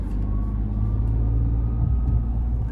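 A 2025 Ford F-150 Lariat PowerBoost hybrid truck gives off a steady low hum with a faint higher-pitched buzz riding over it, constant and close, with no talking.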